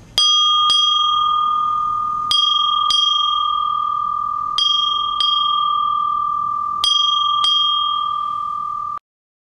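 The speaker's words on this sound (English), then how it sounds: "8 bells." A ship's bell aboard an ocean liner strikes eight bells: four evenly spaced pairs of loud, clear metallic clangs, each ringing on with a sustained tone.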